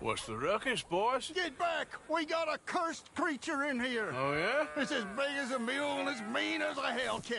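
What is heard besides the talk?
None of the usual background noises is heard.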